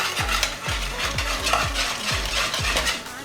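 A spoon stirs banana bread batter after milk is poured in, making rhythmic wet scraping strokes about twice a second against the bowl. The strokes are close and fairly loud, with no talking.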